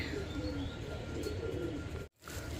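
Faint coos from a pair of mukhi pigeons kept in a cage, nearly buried under steady low background noise, cut by a brief drop near the end.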